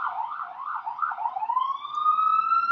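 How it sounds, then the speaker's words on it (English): A siren wails at moderate distance, warbling up and down quickly before settling into a long rising tone, with no voices over it. "sirens."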